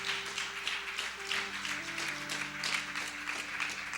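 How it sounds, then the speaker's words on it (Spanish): Church congregation clapping steadily during a sermon, a dense patter of many hands, with sustained music or organ tones underneath. "Dale un aplauso al Señor con todo tu corazón."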